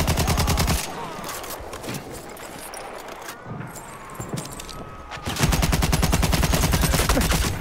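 Rapid gunfire from support weapons in Battlefield 1, with dense bursts at the start and again near the end and quieter shooting and battle noise in between.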